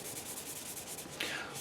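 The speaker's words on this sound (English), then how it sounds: "all this is doing is just buffing out all that excess wax" A cloth buffs excess wax off a wooden spoon, inside the bowl, giving a soft, steady close-up rubbing hiss with one slightly brighter stroke near the end.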